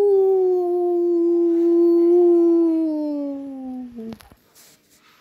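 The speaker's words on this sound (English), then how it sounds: "He did a howl. I heard it." A single drawn-out dog howl, loud and close, holding a steady pitch then sliding down before a few brief clicks and thumps.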